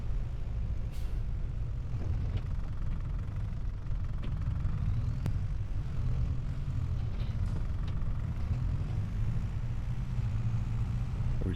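A small tractor engine in Farming Simulator 25 runs steadily with a deep, continuous low rumble and a few faint clicks on top, with no voices.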